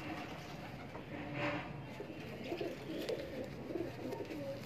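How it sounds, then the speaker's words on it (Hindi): Lal Pari pigeons coo softly and repeatedly in a breeder's loft, faint, low murmuring calls overlapping against quiet background hum. "लाल परी कबूतरों का शौक करवा रहा हूँ मैं"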